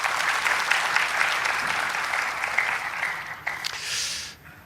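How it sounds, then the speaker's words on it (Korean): A council plenary session's audience claps to welcome visiting guests, a dense, even round of applause from a moderately sized room that tapers off near the end. "박수로 환영해 주시기 바랍니다"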